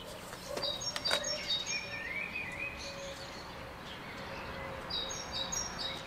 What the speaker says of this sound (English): And the only thing I hear around me are birds.